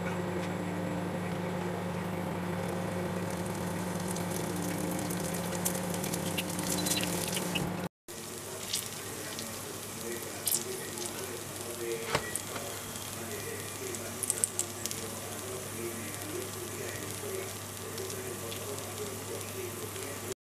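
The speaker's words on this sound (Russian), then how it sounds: "Так что буду жарить мою 6 пирожков." Sunflower oil sizzles and crackles steadily as pirozhki fry in a pan, a continuous close hiss with occasional pops and a brief break partway through.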